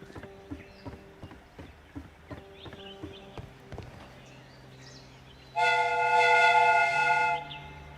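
A train passes at a station in the Sherlock Holmes: Crimes and Punishments video game, with rhythmic clip-clop knocks, then a loud sustained whistle-like blast of about two seconds.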